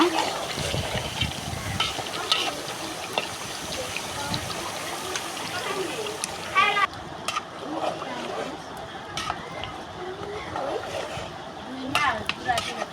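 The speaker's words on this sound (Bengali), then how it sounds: "কষাই নিয়ে আমি ঝোল দিয়ে দিব" Water or gravy poured into goose meat and potato curry in a hot pan gives a splashing, sizzling liquid sound over steady kitchen noise, while a voice talks throughout.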